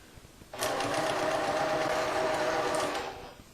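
A Janome 1600P sewing machine quilting on a Grace frame whirs up suddenly, holds a steady, close, fast-running hum for about two and a half seconds, then winds down and stops.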